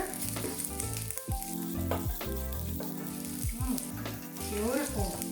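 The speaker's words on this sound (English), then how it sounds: "Let's fry the ginger for about 10 seconds" Ginger frying in cooking oil in a pan over medium heat, a bright, close sizzle crackling steadily with bursts of spitting, no talk over it.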